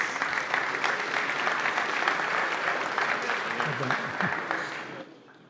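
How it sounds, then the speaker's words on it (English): An audience at a Basketball Champions League awards ceremony claps loudly and continuously, with a voice speaking faintly beneath the applause. The clapping fades toward the end. "Round of applause, please."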